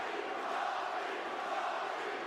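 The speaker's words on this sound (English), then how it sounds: "Crowd trying to give a little juice to Robbie Lawler." A fight-night arena crowd roars in support of Robbie Lawler during his bout with Colby Covington, a dense, steady wash of cheering voices at moderate volume with no single voice standing out.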